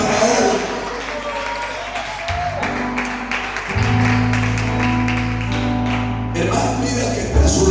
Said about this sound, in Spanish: Den la ofrenda de palmas al Señor.